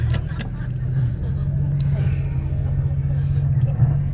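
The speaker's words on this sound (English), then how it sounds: "Big burnout." A V8 race car doing a burnout on the start straight at Mount Panorama, Bathurst, its engine a loud, steady low drone that holds unbroken throughout.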